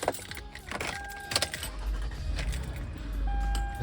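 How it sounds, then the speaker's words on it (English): A car being started: door and key jangles and clicks, then the engine catches and settles into a low, steady idle that swells toward the end. Nearby and fairly quiet, with no talk. "I'm gonna turn the car on."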